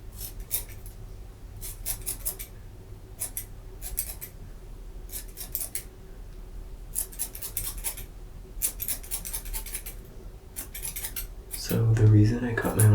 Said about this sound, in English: I'm gonna go in with my thinning scissors now and start to like clean it up and shape it